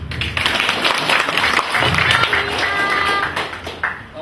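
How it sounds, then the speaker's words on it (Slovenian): An audience at a cosplay presentation on stage claps for a cosplayer, a moderate wash of applause with distinct sharper claps scattered through it and a few voices underneath. "Prosim, no, aplavz."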